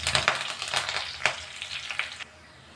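Fenugreek, dried chili, crushed garlic and curry leaves frying in oil in a pan while being stirred: bright, crackling sizzles with a few scraping stirs, then the spatter settles into a quieter hiss.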